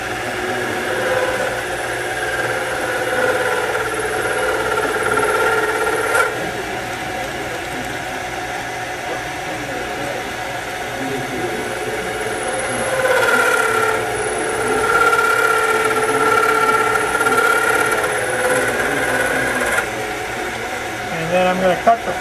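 A lathe takes a light cut off the outside diameter of a small metal part for a model car, giving a steady whirring machine hum with a thin cutting whine, under an intermittent voice.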